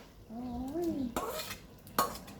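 Pickled bamboo shoots stirred into a cooking pot, with a utensil scraping and clattering against the metal in two or three close, distinct strokes over a low background hum.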